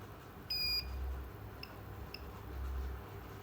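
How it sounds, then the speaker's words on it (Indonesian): A multimeter set to diode mode gives a brief high electronic beep while probing a shorted capacitor in a Redmi Note 9 backlight driver circuit, followed by a couple of faint ticks against a quiet hum. "multitester di mode dioda atau bip"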